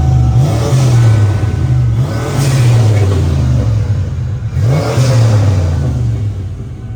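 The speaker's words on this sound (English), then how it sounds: "Let's rev this thing up." A turbocharged 1992 Ford Mustang with a 5-speed manual transmission revs hard several times, each close, loud blip climbing and falling back to a rumbling idle.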